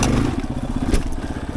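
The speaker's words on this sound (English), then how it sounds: "There's that skid plate putting in the work." The skid plate of a Yamaha XT250 dirt bike scrapes and clatters over rocky ground during slow technical trail riding, a rough grinding rasp heard close over the low chug of the engine.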